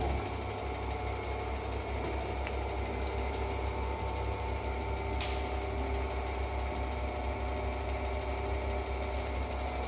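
A compression testing machine runs as it begins loading a brick in a materials lab, giving a steady, continuous motor hum with a low mechanical drone throughout, no talking.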